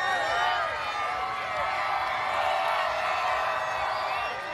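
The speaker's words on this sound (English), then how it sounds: "They're gonna cheer when we mess up too" Crowd cheering and whooping around a Houston Texans NFL football practice, a steady dense roar of many voices throughout, loud and continuous with no clear breaks.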